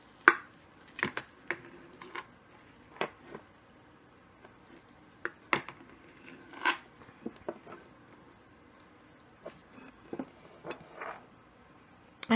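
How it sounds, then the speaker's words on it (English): A knife cuts a slice of no-bake vegan cranberry apple chocolate dessert, making sparse quiet cracks, taps and scrapes spread irregularly over several seconds against a near-silent background. "so I'm going to cut a slice."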